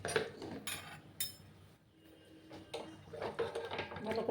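A spoon scrapes and clinks against a metal pot as powdered milk is stirred into milk for mango kheer, in irregular close taps with a quiet pause in the middle.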